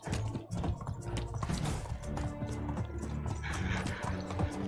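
Horse hooves clip-clop steadily in the medieval game Medieval Dynasty, a fast, close rhythmic clatter lasting throughout, with a brief neigh and some light clicking mixed in.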